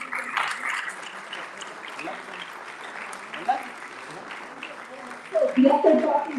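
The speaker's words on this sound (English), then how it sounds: "I think they deserve a round of applause" At a security conference, the audience claps for the volunteers in fairly sparse, moderate applause that continues under talk and ends with a louder burst of voices.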